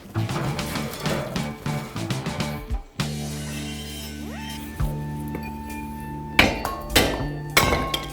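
Wood being split into kindling for a grill fire, heard as sharp knocks and clinks in uneven bursts, some ringing tones between strikes, loud and close with no talk.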